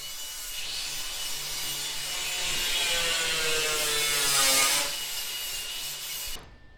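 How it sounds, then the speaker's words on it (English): Metal being cut and ground to patch the floor of a 1967 Firebird in a workshop, a steady harsh abrasive whine held for about six seconds before cutting off abruptly, no talk. "Got all sorts of cutting going on and grinding."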